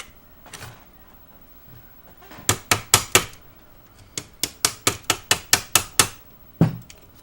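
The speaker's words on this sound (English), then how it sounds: "We're just going to have to hammer it in there." A screwdriver is hammered into a Macintosh Plus during repair, a series of sharp metallic strikes, first four quick blows, then a longer run of about nine evenly spaced hits and one final knock, close and loud.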